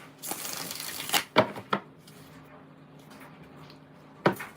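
Cards being shuffled by hand for a card reading, heard as several short, crisp riffling bursts close by, with a longer run early on and quieter pauses between.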